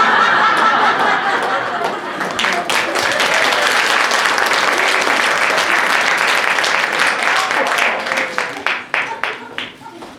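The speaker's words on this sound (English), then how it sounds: "Well, that's one way to get applause." Loud, sustained audience applause at a stage show, mixed with scattered laughter and chuckles, which swells and then breaks into a few final claps before fading.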